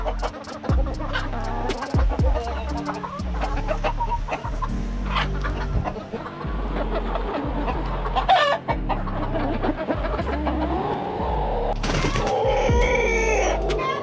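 Several chickens cluck and murmur nearby in their run at night, a continuous, uneven chatter with a few sharper squawks and a higher call near the end.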